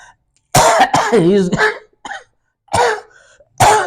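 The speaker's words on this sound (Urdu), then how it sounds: "میری طبیعت خراب اس لیے کھانسی ہو رہی ہے" A man with a cough, several harsh throaty coughs and throat-clearing bursts at close range, broken up by short gaps and mixed with vocal sounds.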